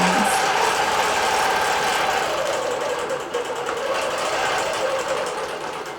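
A sewing machine stitching a quilt runs steadily and loudly with a fast, even mechanical chatter, easing slightly partway through, with no voices.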